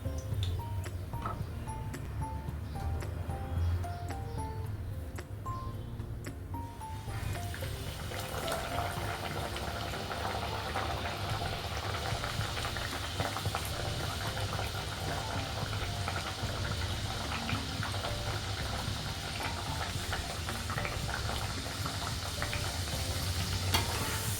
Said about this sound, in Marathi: अशा प्रकारे आपण सर्व पुऱ्या तळून घेऊयात